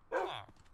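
A single short yelp from a dog getting hurt in Minecraft, sharp and close, fading quickly into quiet game background.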